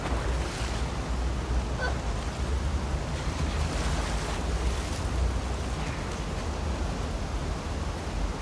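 Water waves in The Last of Us Part 2, heard during a swim toward an aquarium: a continuous, moderately quiet wash of surf and churning water that rises and falls gently, with no voices.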